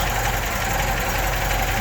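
A completely rebuilt engine with rebuilt carburetors in a 1967 MG MGB GT idles close and loud, a steady, even rumble with a faint rhythmic knock and no voices.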